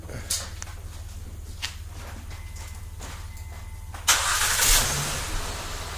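A few faint clicks from an aftermarket remote start, then at about four seconds a 2009-2015 Honda Pilot engine cranks and catches, settling into a steady idle.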